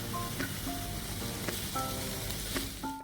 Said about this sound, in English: Now it's time to add our boiled sweet potatoes along with carrots